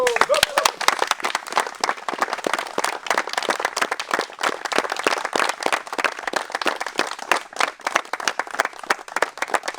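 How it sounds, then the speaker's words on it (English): An audience at a reality TV show event applauds with sustained, dense clapping that carries on throughout, moderately loud and close. "A round of applause for our noble government."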